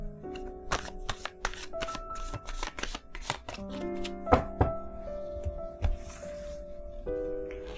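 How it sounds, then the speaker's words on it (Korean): Tarot cards shuffled and drawn at close range, a run of crisp riffling flicks and soft slaps, with a quiet tonal background throughout. "카드를 직접 뽑아보도록 하겠습니다. 6장 뽑도록 하겠습니다."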